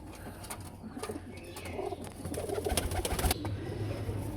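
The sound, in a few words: pigeon cooing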